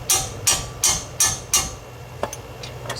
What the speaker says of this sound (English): give it a couple of whacks with the hammer